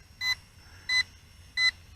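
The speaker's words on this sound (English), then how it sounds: "the beeping has changed its tone, or the beeps, and it has initiated the second phase of low voltage return to home" An SHRC H1G GPS quadcopter sounds its low-voltage warning: three short, clear electronic beeps evenly spaced about two-thirds of a second apart over faint background hum.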